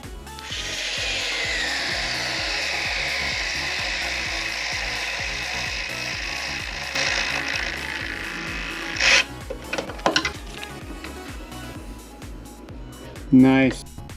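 Pkey electric screwdriver driving a screw into a pre-drilled pilot hole in wood, a steady close motor whir with ratcheting clicks running for about nine seconds, then a few brief clacks.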